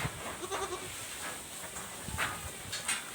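Newborn goat kids on a farm give a few faint, brief bleats over soft background noise and hiss.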